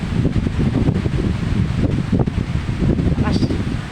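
Strong typhoon wind roars and gusts steadily close to the microphone, a dense continuous rush with rustling debris and brief surges throughout.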